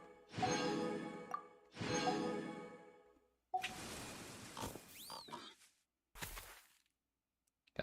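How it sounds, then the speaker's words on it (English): A pig in Genshin Impact gives two long, loud grunting squeals, then a series of shorter snorts and game sound effects, with pauses of silence between. "Pig noises."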